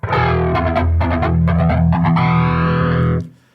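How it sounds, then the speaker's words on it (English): Heavily distorted electric guitar with a sweeping flanger effect, switched through a BOSS ES-8 pedal system, loud and sustained, chords ringing for about three seconds before cutting off. "That's going to be distortion with flanger."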